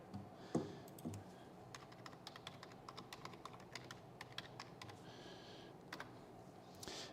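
Someone types a quick message on a computer keyboard, a quiet, irregular patter of close key clicks with short pauses between bursts.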